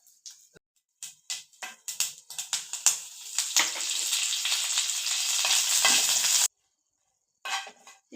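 Mustard and other tempering seeds hit hot oil in a pan and crackle with sharp pops. The pops build into a dense sizzle that cuts off abruptly, and a few scattered crackles follow.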